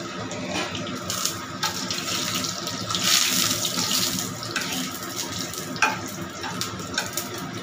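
Five-spice tempering with bay leaves and dry red chillies frying in oil for an aloo dum, giving a steady close sizzle and crackle with a few stirring scrapes and no talking.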